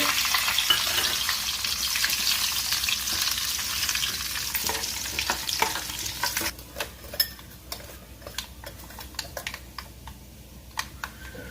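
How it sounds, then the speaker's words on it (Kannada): Mustard seeds splutter and cumin fries in oil for a red chilli chutney, a dense sizzle that thins into sharp, scattered pops and crackles near the pan, with no talking. "ನೋಡಿ ಸಾಸಿವೆ ಚಟಪಟ ಅಂತ ಇದೆ ಅದಕ್ಕೆ ನಾನು ಈಗ ಜೀರಿಗೆ ಹಾಕ್ತಾ ಇದ್ದೀನಿ"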